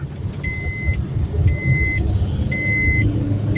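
A road traffic jam on Ambegaon bridge: idling car and truck engines rumble in a steady low bed, while a reversing beep sounds in three regular bursts over the congested traffic.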